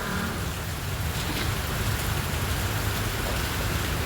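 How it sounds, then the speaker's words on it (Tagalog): Heavy rain pours steadily, a dense continuous hiss with drops pattering on a surface, loud and close throughout. "ang lakas ng ulan"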